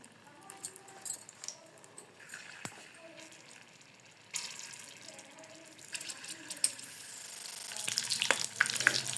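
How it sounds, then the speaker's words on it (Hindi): Spicy potatoes frying in a little oil give off a steady close sizzle and crackle, growing louder and hissier toward the end, with brief clatters of handling and no talk. "अब हम इसको फ्राई कर लेते हैं थोड़े कम तेल में"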